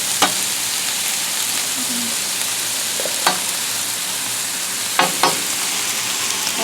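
Vegetables and butter sizzle on a Blackstone Adventure Ready flat top grill for chicken fried rice. A loud, close, even hiss runs throughout, broken by a few sharp spatula taps.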